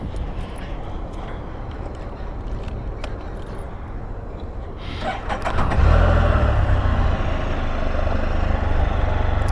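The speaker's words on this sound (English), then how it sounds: "See the fire truck rolling in." A fire truck rolls in near a mall, a vehicle engine rumbling nearby that grows louder partway through as the truck approaches and passes close, with no talk over it.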